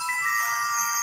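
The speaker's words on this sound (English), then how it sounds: "That's my cell phone notification sound." A cell phone notification tone rings out clearly, bright chiming electronic notes sustained for about a second, heard alone without speech.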